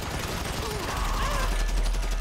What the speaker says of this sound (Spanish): nos acribillamos a balazos.